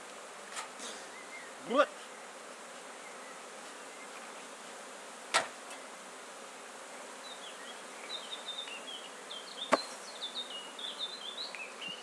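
Honeybees buzzing around a beehive as their queen is placed, a steady low hum close by with a few louder passes of individual bees, and a brief spoken word in French.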